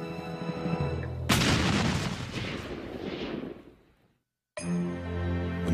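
A heavy cannon blast from a Texian-Mexican battle of 1835 booms out loud and close, then rolls into a long decaying rumble before cutting to silence, with a dramatic music bed heard before and after.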